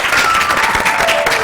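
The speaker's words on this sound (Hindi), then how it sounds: "तालियां होनी चाहिए उसके लिए।" A studio audience on a morning talk show claps loudly and steadily for a brief burst, dense applause close up with no voices over it.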